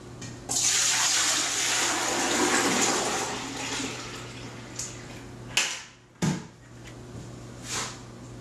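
Citrus juice pours into a container for canning in a loud, continuous rushing splash that builds quickly and runs for several seconds, then tapers into a few brief bumps and small splashes near the end.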